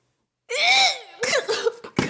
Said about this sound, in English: Did I just like mess up my eyelashes from sneezing?